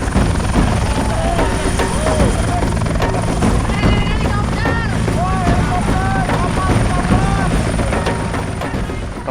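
A helicopter passes overhead while people ride motorcycles, a loud steady rotor roar with a continuous hum, heard alongside motorcycle engines and wind buffeting, as riders talk excitedly over the noise.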